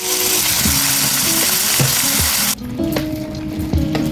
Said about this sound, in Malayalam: ബീഫ് കഴുകി വാരി അടുപ്പിലിടുകയാണ്.